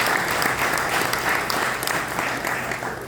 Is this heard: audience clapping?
yes